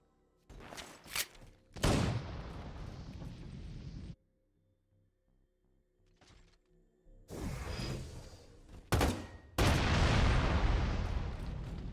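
A Halo Reach explosion sound effect in a Halo Wars mod fires repeatedly as loud, punchy booming blasts with rumbling tails, separated by quiet gaps, close and without talk.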